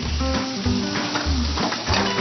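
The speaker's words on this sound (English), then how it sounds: "Just listening to those pork chop sizzle made me so hungry." Pork chops sizzle and crackle steadily in a hot pan, a dense continuous frying hiss with some stirring clatter of a utensil, close and fairly loud with no talking.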